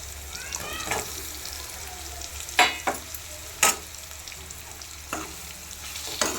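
Bitter gourd frying in oil with red chili powder and turmeric, a continuous low sizzle punctuated by several sharp clanks and scrapes of a spoon against the pan, close by.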